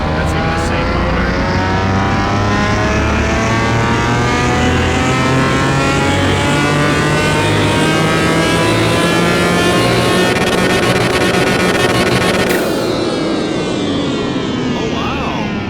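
Pagani supercar engine revving hard in Car Mechanic Simulator 21, a loud continuous roar with rising and falling pitch sweeps throughout, a voice faintly underneath, ending abruptly as the revs cut.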